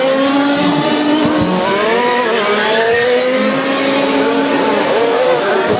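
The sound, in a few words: 1/5 scale RC Formula 1 race cars racing on track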